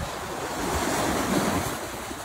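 Sea waves washing onto an open, exposed shore near Bodrum facing Kos, a steady continuous surf roar with some wind noise, no voices.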